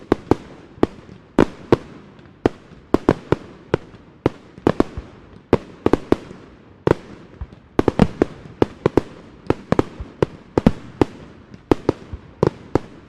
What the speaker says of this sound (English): Firecrackers, or simply crackers, of course.